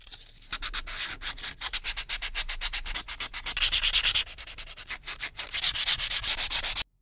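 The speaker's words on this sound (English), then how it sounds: "as usual, I'll start with 120 grit sandpaper" Sandpaper of 120 grit rubs back and forth over the wooden handle of a vintage razor strop, a rapid, rhythmic rasping of steady strokes, close and loud.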